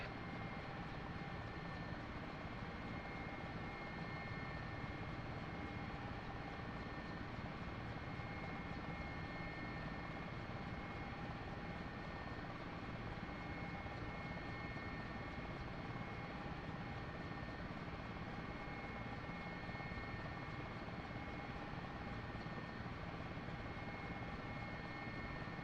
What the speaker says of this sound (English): You'd hear that engine revving. You'd hear your rotor system speeding.